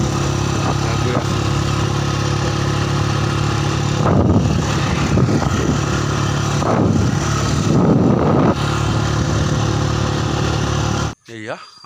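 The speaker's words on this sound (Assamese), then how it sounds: "গৈ আছোঁ ঘৰলৈ বাইক লৈ গৈ আছোঁ" A motorbike loaded with taro tied at the back rides home, its engine droning steadily and close with occasional rattling bumps and gusts. The sound drops out abruptly near the end.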